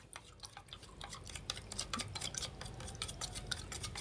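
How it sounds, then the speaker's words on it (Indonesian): A utensil stirs fertilizer into water to dissolve it, producing rapid repeated clinks and taps against the container, soft and close, steady throughout. "Kita aduk dulu biar homogen, mencair,"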